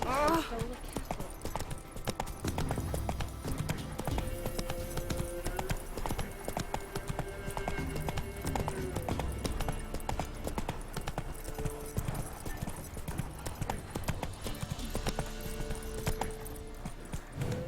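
Roach, a horse in The Witcher 3, trotting with steady rhythmic hoof clip-clops close by throughout, heard under a voice talking and background game music.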